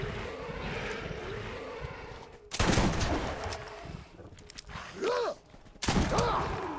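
Gunfire from the Sledge shotgun in the Borderlands video game, with a few loud, booming single blasts spaced apart over a steady game background, plus whooshing effects between shots.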